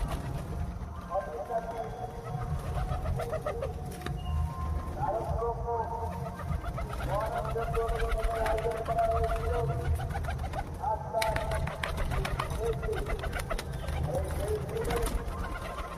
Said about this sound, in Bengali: এসব শিকারি পায়রা লোটন পায়রা